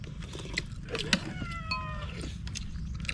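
A cat gives a couple of faint meows, with a brief rising cry over a noisy outdoor background and some light clatter.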